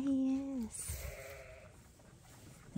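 Lambs bleat inside a barn, one loud, close wavering call opening the sound, followed by softer bleats and quiet shuffling, with another sharp bleat starting right at the end.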